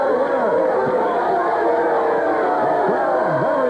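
Wrestling arena crowd at a 1978 California match booing and grumbling in unhappy reaction to the pinfall finish, a dense continuous roar of many voices with whistles and jeers rising and falling throughout.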